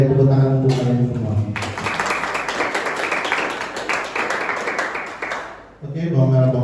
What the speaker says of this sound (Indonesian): Oke, baik, tepuk tangan untuk kalian semua.